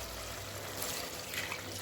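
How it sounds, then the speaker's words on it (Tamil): Water pours in a soft, steady trickle into a cooking pot while making biryani, fairly quiet and continuous with no voices. "இப்போ வந்து தேவையான அளவு தண்ணி ஊற்றிடலாம்."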